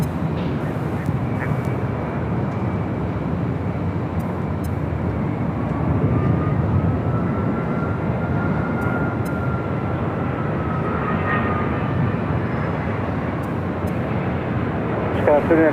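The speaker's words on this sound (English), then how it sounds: "up next, the Dreamliner coming up from Tokyo" A Boeing 787 Dreamliner jet arriving at Los Angeles LAX from Tokyo Haneda produces a steady, broad engine roar throughout, with a faint rising whine, heard from a spotting position over continuous background noise.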